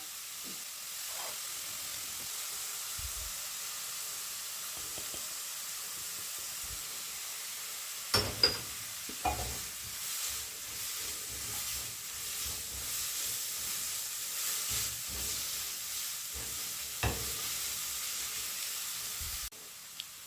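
Finely chopped onion with salt and turmeric frying in a pan, a soft steady sizzle with occasional scraping stirs and small knocks over about twenty seconds, no talking.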